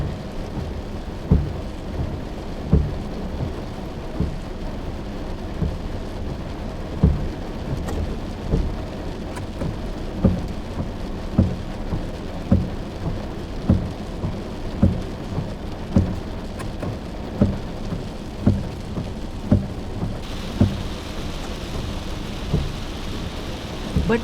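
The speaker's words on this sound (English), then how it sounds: "By then, it was raining and it rained very heavily." Heavy rain pours down during a road trip from Bhopal to Mumbai. The steady dense drumming carries on throughout, broken by regular sharp knocks about once a second and dull rumbles underneath, with no talking.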